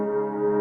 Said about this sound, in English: if you put reverb on it, export that, reverse it, and then turn it into that